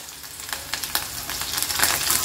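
Crushed ginger and garlic frying in hot oil, a steady close sizzle with sharp crackles and pops that grow busier toward the end.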